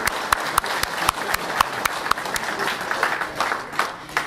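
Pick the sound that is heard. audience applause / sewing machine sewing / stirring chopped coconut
audience applause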